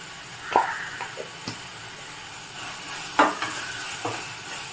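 Moong dal frying in a pan with a little turmeric powder being stirred in, giving a few scraping stir strokes over a faint, steady sizzle, close and fairly quiet.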